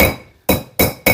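Three sharp metallic hammer blows strike a part being driven into a Holden HQ 1 Tonner chassis during a rebuild, evenly spaced and loud, each with a brief ringing decay and no talk.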